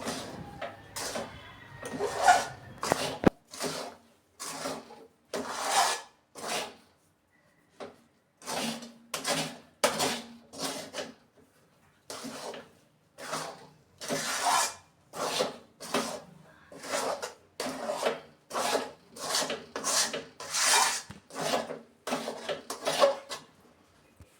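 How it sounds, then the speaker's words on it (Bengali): A lentil barfi mixture with sugar is stirred in a pan, giving close, rhythmic scraping strokes that repeat at an even pace with short pauses between them. No one speaks. "আবারও সুন্দরভাবে নেড়ে নিচ্ছি চিনি গলা পর্যন্ত আমি কিন্তু নাড়তেই থাকবো"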